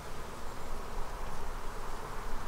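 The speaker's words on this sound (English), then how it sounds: "Oh, these bees are already angry." Dense, steady buzzing of agitated honey bees swarming around an opened hive, close and continuous with no voices.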